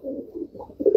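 Low, soft Rampuri pigeon cooing in repeated rolling phrases, close by, growing louder toward the end.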